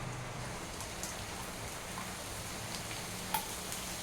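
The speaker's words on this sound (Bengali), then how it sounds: "এখন আমি দিয়ে নেবো ডাল।" Soaked moong dal lentils hit hot oil in a pan and set off a steady, close crackling sizzle like light rain, broken by occasional sharp pops, with no talking.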